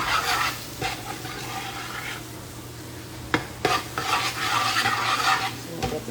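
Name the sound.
stirring Louisiana roux in a sizzling pot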